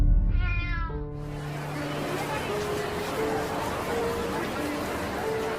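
A cat lets out a single clear meow near the start, close and prominent, then fades under a steady murmur of crowd babble and voices.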